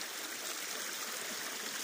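Rainwater flows along a ditch after heavy rain, a steady, broad rushing and babbling of running water heard close and continuous, with no voices.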